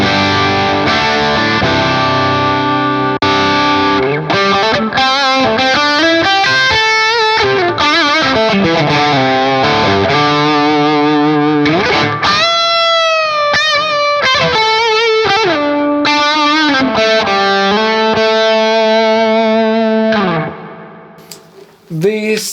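An ambient electric guitar preset on a REVV Dynamis amp, washed in effects, playing shifting sustained chords and swelling notes with heavy modulation and echo, loud and continuous before fading out.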